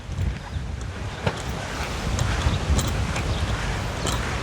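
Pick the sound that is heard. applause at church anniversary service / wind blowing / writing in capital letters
wind blowing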